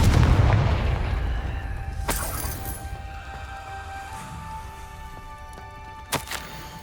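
A Confringo fire spell explodes in Hogwarts Legacy, with a loud boom at the start that decays into a long crackling, rumbling tail, followed by a few faint sharp cracks.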